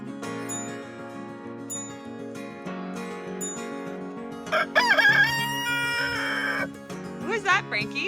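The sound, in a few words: rooster crowing on a farm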